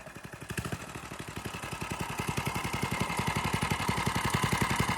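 A drift quad's engine with a Nibbi carburetor runs at a steady, fast, pulsing idle, close and alone, its rhythm slowly quickening.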